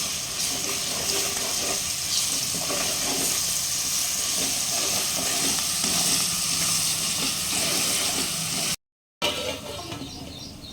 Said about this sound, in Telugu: మనం అల్లం పేస్ట్ వేసుకొని కొంచెం పచ్చివేయదాకా కలుపుకుందాం.